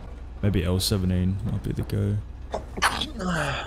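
A single sneeze bursts out among several players chatting over voice during a session of the survival game Rust, the voices continuing before and after it.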